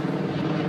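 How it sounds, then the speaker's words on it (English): A helicopter flies overhead near an airport approach path, its rotor drone a loud, steady, rumbling wash for a brief moment. "Bloody helicopter, go away."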